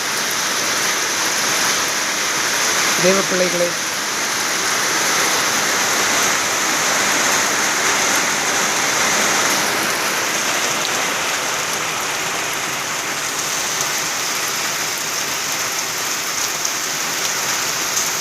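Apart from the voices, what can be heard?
light rain falling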